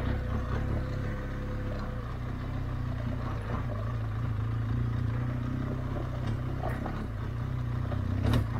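A BMW R1200GSA motorcycle engine putters along steadily at moderate volume, with some rattling and clatter over a bumpy green lane track.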